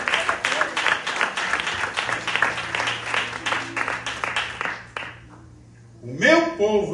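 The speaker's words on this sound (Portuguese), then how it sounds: "Vamos aplaudir a terra." A congregation applauds in a church during a family worship service. Steady clapping runs for several seconds and stops abruptly, and then a voice speaks.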